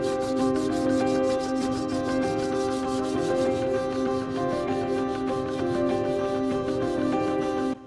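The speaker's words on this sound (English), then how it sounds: "So with the 320, you lightly sand down the leather and pay attention to where really you have the damage and the cracking" A peeling, cracked leather steering wheel is hand-sanded with 320-grit sandpaper in quick, even back-and-forth strokes. The close, steady rasping keeps going throughout with no talking.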